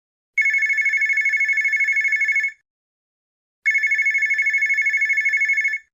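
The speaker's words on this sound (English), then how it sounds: "Suddenly, the telephone rang." A telephone bell rings in two clear bursts of rapid trilling, each about two seconds long with a pause between, loud and close with no talking.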